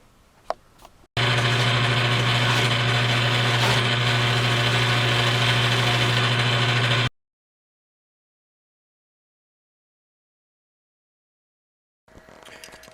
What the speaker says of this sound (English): just a trip to the buffer and we'll get this thing shining up pretty